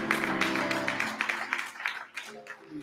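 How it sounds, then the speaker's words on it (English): Rhythmic, steady hand clapping of praise from a church congregation at a school Founder's Day and awards program, with voices and sustained tones running underneath. "Give the Lord a hand clap of praise."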